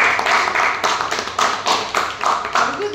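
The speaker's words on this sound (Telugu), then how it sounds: "I want all of us to give a big round of applause" Rhythmic bursts of close hand clapping from a small group during a movie-team interview, steady and fairly loud for a few seconds.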